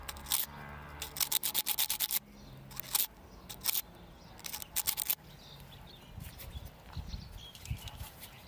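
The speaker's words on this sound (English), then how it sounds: "You can use sandpaper to scratch the contact and remove the surface corrosion." Sandpaper scratching corrosion off a car taillight contact, rapid bursts of gritty rubbing strokes close up, with short pauses between rounds of sanding.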